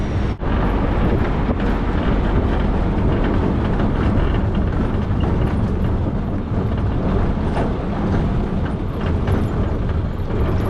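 Loud, steady rumble of a train at Agartala railway station, a continuous mechanical roar with a brief clunk near the start and no clear voices.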